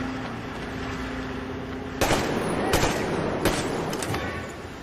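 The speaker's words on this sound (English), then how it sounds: "Taking fire!" A few loud shots of gunfire ring out in Metro Exodus over a steady ambient hum, a sharp crack followed by scattered reports spaced across a few seconds.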